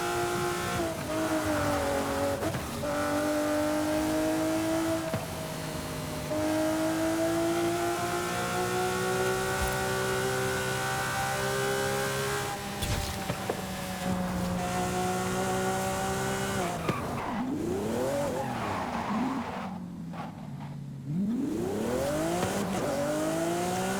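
An exotic Italian sports car in a racing game driven hard, its engine droning and revving through rising and falling gear changes, with a sharp downshift and tire squeal near the end, loud and close with no talking.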